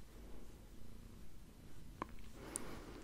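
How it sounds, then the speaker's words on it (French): A pet cat purrs softly and steadily close by, a low continuous rumble with a couple of faint small clicks near the end. "Je sais pas si vous entendez là ces ronronnements."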